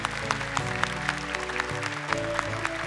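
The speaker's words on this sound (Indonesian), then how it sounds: "Tepuk tangan untuk Kak Nabila." Studio audience clapping on a televised Quran-memorization competition show, a steady patter of hands blended with background music playing throughout.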